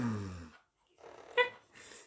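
A dog panting and breathing close by in short wheezy bursts separated by brief silences, following a moment of voice at the start.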